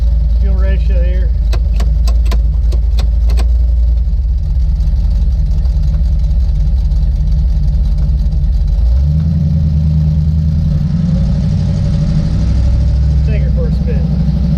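A 5.3 LS V8 swapped into a Jeep Cherokee idling as it warms up, a loud steady low rumble that deepens slightly partway through, heard from inside the cab with a few clicks early on.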